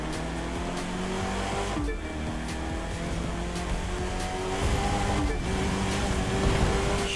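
A race car in The Crew 2 roars steadily through an illegal street race, its engine droning loud and continuous with tire squeal, a few gear-shift dips breaking the sustained noise.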